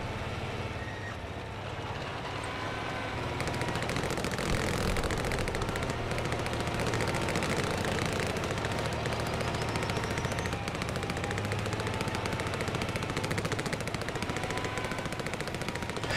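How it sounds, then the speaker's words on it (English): Distant MG-34 machine guns fired from Panzer II Luchs tanks on a hill in a World War II tank battle game, a steady rattling stream of bursts under engine rumble, with no voices. "the shots we're hearing right now are literally the Panzer II Lukes at the hill shooting their MG-34s"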